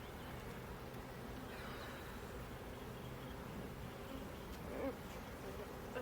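Honeybees buzz steadily in an open hive during an inspection on a hot June day, a dense, continuous low drone close by with occasional louder passes.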